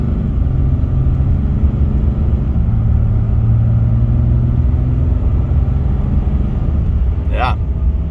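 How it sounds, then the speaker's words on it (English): A 2022 Ram 2500 Tradesman pickup with a Cummins diesel pulls away gently from a stop at partial throttle. Its deep, steady engine rumble is heard from inside the cab, with a voice over it. "We're gonna go ahead and do a quick acceleration."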